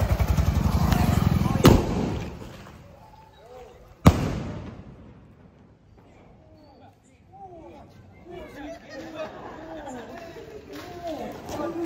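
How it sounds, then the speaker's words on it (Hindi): Two sharp, loud bangs of firecrackers burst out amid a noisy outdoor crowd, with people chattering and calling throughout. "यहाँ पर पटाखा जल गया है, देख सकते हैं आप लोग"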